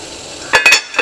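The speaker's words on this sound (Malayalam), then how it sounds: "എന്നിട്ടൊന്ന് തിളയ്ക്കുന്ന വരെ ഒന്ന് മൂടി വെക്കണം." A metal lid is set onto a pot of water being brought to a boil, making a few sharp, close clinks and clanks in quick succession after a quiet start.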